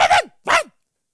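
A man imitates a dog barking with his voice, two short loud woofs with a brief pause between them, then silence.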